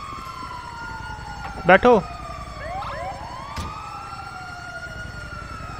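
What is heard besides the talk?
ambulance siren in video game GTA 5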